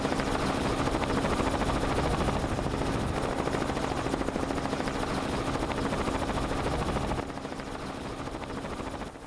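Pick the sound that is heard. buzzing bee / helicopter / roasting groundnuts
helicopter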